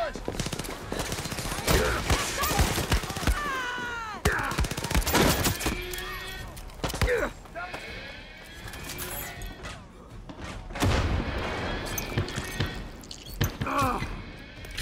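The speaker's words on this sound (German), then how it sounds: "Ich schieße. Alles klar. Finger an den Abzug." Rapid gunfire from the video game Far Cry 6, sharp bursts and volleys repeating through the whole stretch, loud and close, mixed with people talking over the shooting.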